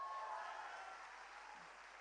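Audience applause at a business success workshop in Chandigarh, a steady wash of clapping that stays fairly even and moderately loud for about two seconds with no talk over it.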